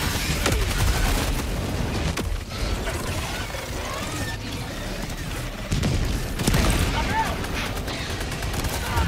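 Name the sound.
shotgun and gunfire in the video game Helldivers 2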